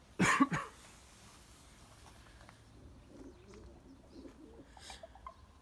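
Racing pigeons in a loft give a short, loud burst of cooing and flapping up close, then quieter cooing and shuffling continue faintly in the background.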